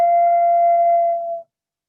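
One organ pipe sounds a single clear, steady tone with faint overtones, held loud and even for about a second and a half before cutting off cleanly into silence.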